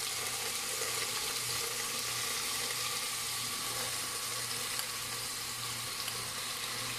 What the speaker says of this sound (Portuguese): eu vou colocar a nossa carne aqui na panela